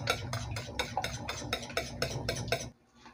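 Two eggs are mixed in a bowl with steady, rapid tapping strokes of a utensil against the bowl, about a dozen close, even beats before stopping abruptly.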